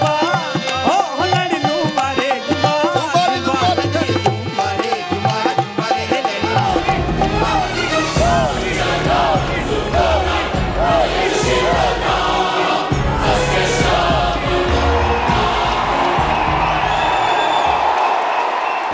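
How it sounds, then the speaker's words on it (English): A large crowd of Indian community members in Shanghai cheers and applauds in a rousing welcome for Prime Minister Narendra Modi, with loud, dense clapping and whoops that build steadily and hold at full intensity throughout. "He's used to this, the applause, the ambience and the rousing welcome."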